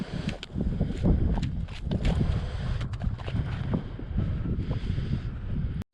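Steady broadband wind gusting across an open lake during pike fishing, a continuous rushing roar buffeting the microphone with no talk.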